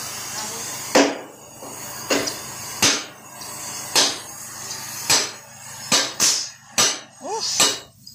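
Steady hammer blows ring out one by one at an uneven pace, fairly close, with a faint hum in the background.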